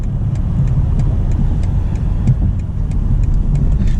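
A 2022 BMW Alpina B8 braking hard with ABS engaged, heard from inside the cabin as a steady, loud, low rumble of road and drivetrain noise that holds without a break for several seconds.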